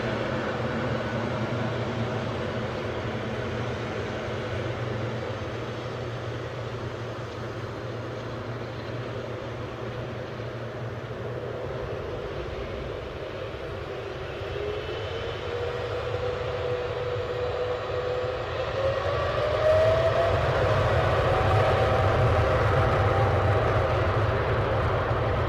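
A Boeing 777 airliner at Newcastle airport gives a distant, steady jet-engine roar that swells louder toward the end as it picks up speed.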